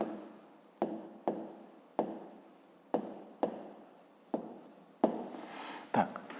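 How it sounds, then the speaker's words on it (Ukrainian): Pen writing an answer by hand on paper, close and quiet, in a series of short scratchy strokes, each starting sharply and fading, with brief gaps between them. "Ну а зараз записуємо відповідь. Пишемо відповідь."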